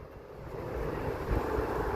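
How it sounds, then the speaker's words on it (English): A big jet airplane takes off in the distance outdoors at botanical gardens, heard as a broad, steady low roar that slowly builds in loudness, with no talking over it. "Sounds like a big jet taking off out there."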